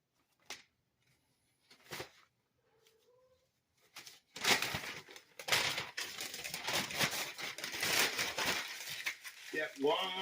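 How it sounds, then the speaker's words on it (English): Newspaper pages are crumpled tightly into balls beside a home fireplace. A few sparse rustles give way to a sustained, loud crinkling and crushing of paper. "Crumple up newspaper balls very tightly."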